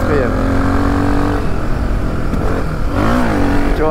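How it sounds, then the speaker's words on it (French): Loud, close engine of a modified Suzuki DR 350 trail motorcycle revving and climbing through the gears on a rough dirt track, each rising pitch sweep cut by a brief drop at the shift, with engine noise filling the whole stretch. "Bon, elle pétarade, ouais."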